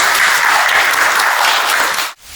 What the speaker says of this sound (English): Let's welcome him onto the stage with a huge round of applause.